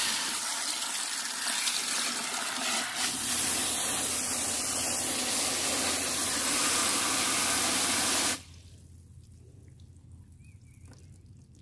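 Water from a hose or can pours steadily onto garden soil, a loud continuous hiss and splash lasting about eight seconds before cutting off to quiet.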